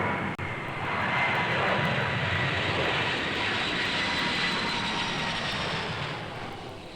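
Jet airliner climbing at climb thrust, a steady broadband engine roar with a whistling high tone, loud and continuous throughout with no talk.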